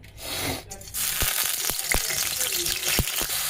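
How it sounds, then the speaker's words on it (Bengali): Eggplant and potato pieces fry in hot oil in a wok, giving a continuous close sizzle broken by several sharp clicks and taps from a utensil. "এখন বেগুনগুলো আর আলুগুলো ভেজে নেব এক এক করে।"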